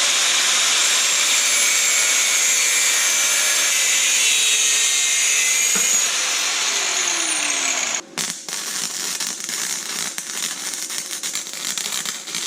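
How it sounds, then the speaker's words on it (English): A power tool cuts off a metal intercooler bracket plate on a DIY turbo Miata, a loud, steady, high-pitched grinding whine running for about eight seconds, then cutting off abruptly before a rougher, quieter tool noise continues. "so we're just going to cut this off and then we'll weld them fully out"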